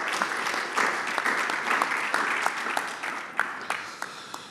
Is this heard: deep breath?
no